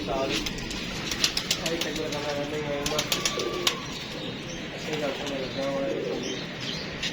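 A female pigeon coos softly in low, rolling phrases as she comes out, amid chirping birds and steady background noise, with a voice talking over her.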